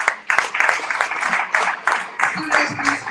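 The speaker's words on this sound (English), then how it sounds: "give a round of applause to all of them" Audience at a school board scholarship event applauds, a moderate patter of clapping in uneven waves, mixed with a speaker's voice over it.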